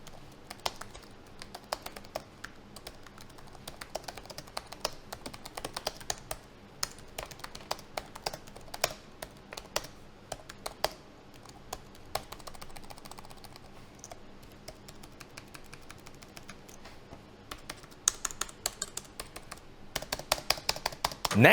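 Keyboard and trackpad of an HP Victus 15 gaming laptop being typed on and clicked, a steady stream of close, crisp key taps with irregular bursts and pauses, alone with no talking.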